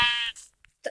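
A sheep in the Minecraft video game gives one short, nasal bleat up close, followed by a few faint, brief game sounds.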